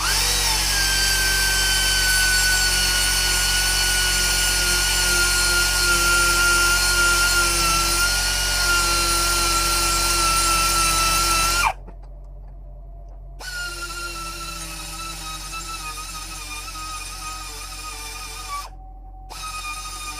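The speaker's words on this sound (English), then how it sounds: "I'm going to cut it with a die grinder to match the original sprocket" Die grinder cutting a mountain bike chainring sprocket, giving a loud, steady high-pitched whine with a grinding edge that stops abruptly partway through, then resumes more quietly with a brief break, close up and with no talk.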